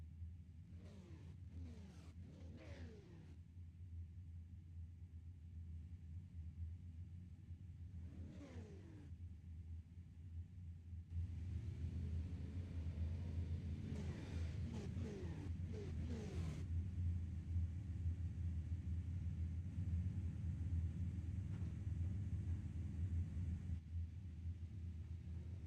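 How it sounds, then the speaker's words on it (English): Super truck race engines rumble on the grid at Lanier National, a steady low idle with a few revs early on, then a louder, fuller surge as more engines join and hold together. "Seems like the engines have fired."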